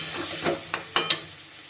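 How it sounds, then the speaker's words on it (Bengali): Hard fried potatoes stirred in a pan, with a soft constant sizzle under several sharp scrapes and clinks of the spatula against the pan. "আলুগুলো দিয়ে দিলাম কারণ আলুগুলো খুব শক্ত আছে কষাতে হবে"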